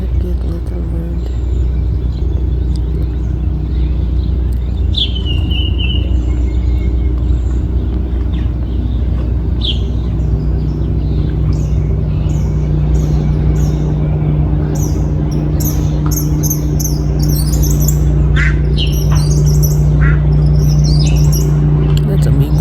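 Birds chirping outdoors as parent birds bring food to their nestlings, scattered high tweets and cheeps that get busier toward the end over a constant low rumble of traffic and engines, with a person talking in places.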